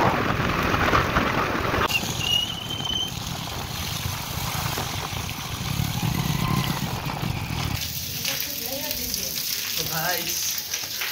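Steady broadband hiss of rain and spray during a motorcycle ride home through a downpour, with a continuous wet rushing wash and low road rumble throughout, and faint voices toward the end.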